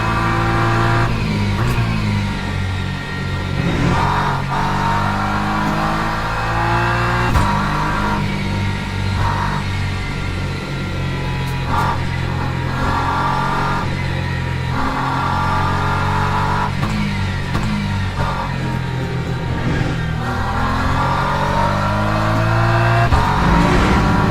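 A BMW race car in the racing game Le Mans Ultimate drones loudly throughout, its engine rising and falling in pitch through repeated upshifts and revs, with no talking.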